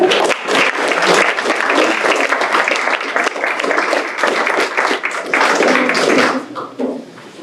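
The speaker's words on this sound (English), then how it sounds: "Another big round of applause" A school board meeting audience gives a big round of applause, dense sustained clapping heard fairly close, fading out near the end.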